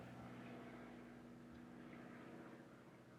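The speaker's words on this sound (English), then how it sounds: "There's a plane flying." Airplane flying overhead outside and heard through an open door, a steady low droning rumble that stays faint and distant throughout, with no talking.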